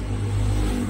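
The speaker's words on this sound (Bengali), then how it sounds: "এই যে দেখো গাড়ির আওয়াজ," A passing car or motorbike engine rumbles just outside, a low steady drone with a slight revving swell, moderately loud over a short moment.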